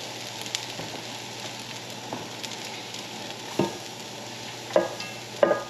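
Garlic frying in a pan while cooking a chicken pasta dish, a soft continuous sizzle with occasional scraping stirs and clinks of a utensil against the pan.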